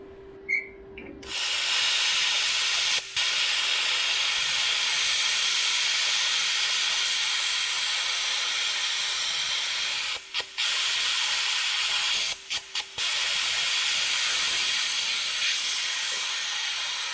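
A Stahlwerk Cut 50 plasma cutter cutting metal gives a loud, continuous close hiss that breaks off a few times in brief stuttering dropouts, with a short tone at the start.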